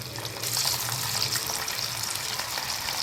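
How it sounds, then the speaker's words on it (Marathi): Chicken pieces frying in hot oil make a steady, hissing, crackling sizzle that holds evenly throughout and sounds close by. "त्याच्यामध्ये आपण एक एक करून टाकायचे चिकनचे तुकडे."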